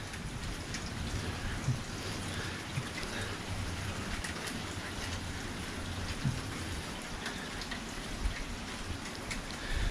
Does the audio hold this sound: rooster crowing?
no